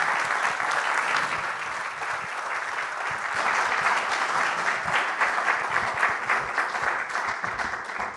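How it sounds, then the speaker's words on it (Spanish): A dense, steady wash of audience applause at a university alumni gathering holds at an even, full level for the whole stretch, with no voices rising above it. "Un aplauso a todos, por favor."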